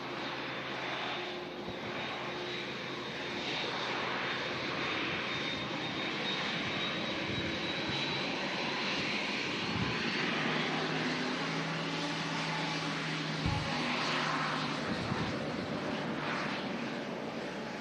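A heavy jet airliner rolls along the runway at Manchester Airport on a day of strong winds, its engines giving a loud, continuous roar that stays steady throughout, with no voices.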